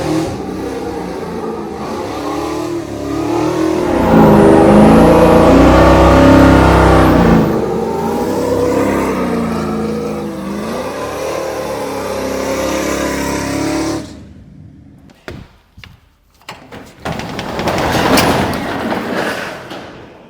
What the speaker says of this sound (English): one little burnout. Burnout couldn't hurt nobody,